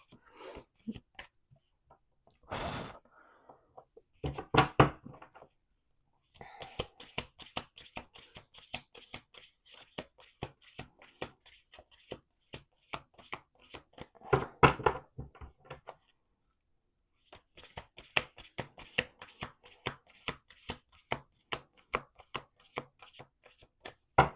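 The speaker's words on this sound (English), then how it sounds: "We're going to do 2 more shuffles." Repeated bursts of crisp, rapid riffles and flicks of oracle cards being shuffled, close up, separated by short pauses, with no talking.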